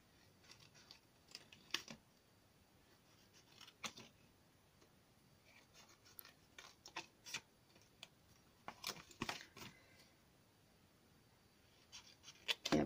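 Card for a baptism dragée box is cut and perforated by hand, giving faint, scattered snips and sharp little clicks in a quiet room, irregular and close, with no talk.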